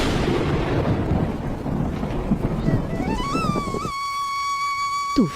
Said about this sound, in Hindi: तूफान बढ़ता ही जा रहा है।